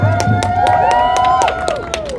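Rally crowd applauding and cheering for a speaker at a Seattle demonstration: loud, dense clapping with sharp individual claps, whistles and shouts ringing over it, held steady throughout.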